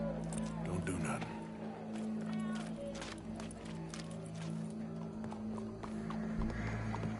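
Horse hooves clip-clop in Red Dead Redemption 2, a steady gait over a low rumbling game backdrop, with occasional talk and faint background activity.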